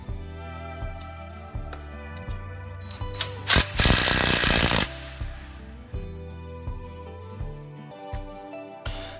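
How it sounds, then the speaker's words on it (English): A ratchet wrench clicks in regular strokes while tightening motor bolts on a Warrior portable sawmill being assembled, with a short burst of louder mechanical noise in the middle. "Once this is accomplished, you can tighten your motor bolts down."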